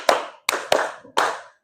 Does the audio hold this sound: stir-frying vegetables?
no